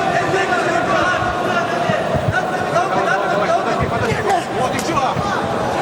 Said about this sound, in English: Just one punch from Navruzov, and the crowd goes crazy.